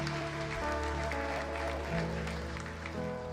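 Church congregation applauding during a Christmas service, a steady wash of clapping heard beneath a low sustained musical tone, brief and fairly quiet.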